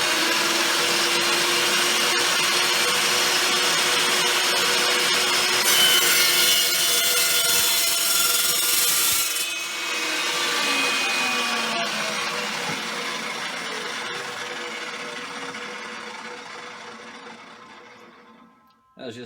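Evolution EVO380 chop saw slicing through thin metal, a loud, continuous high-pitched cutting whine with a steady motor drone that drops in pitch partway through, then winds down toward the end.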